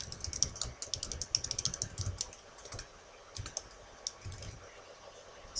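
Rapid, uneven typing on a computer keyboard while an email address is entered into an online account form; the crisp key clicks come close and fairly steady, with a few short pauses.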